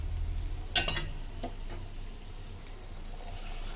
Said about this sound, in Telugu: పూరీలు ఎర్రగా వేగాలి